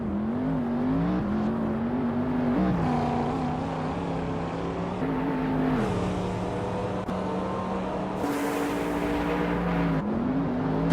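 Engines drone in a video game race including a 2007 Lamborghini Reventon, a steady whining tone that rises and shifts pitch with gear changes, continuous and close throughout.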